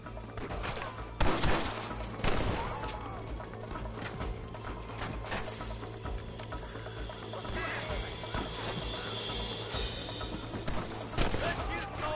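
Gunfire in a Red Dead Redemption Remastered shootout: several sharp shots and crashes crack out at intervals over a steady low background hum, fairly quiet overall, with a couple of louder bursts near the start.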